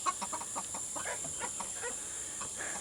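Chickens cluck softly around a backyard coop, a run of short, repeated calls at moderate distance over a steady high background hiss, with no talking.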